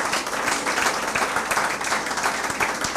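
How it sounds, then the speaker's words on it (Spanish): A church congregation claps together in a dense, even wash of hands that fills the whole stretch, with a faint murmur of voices mixed in. "Denle un aplauso al Señor"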